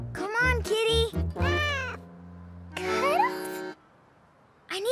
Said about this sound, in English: Come on, kitty.